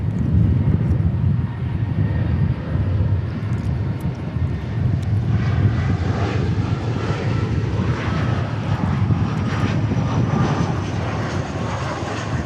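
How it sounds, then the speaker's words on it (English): An Airbus A300 jet taxiing at DFW airport gives off a steady, loud engine roar and whine that holds throughout, with broadband wind-like rush. "Got an A300 taxiing out even."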